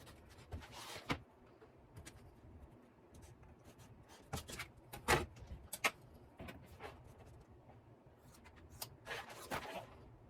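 A marking pen scratches along fabric beside a ruler while cutting guides for a tote bag's boxed bottom corners: faint, close, intermittent short scribbles and taps with quiet pauses between.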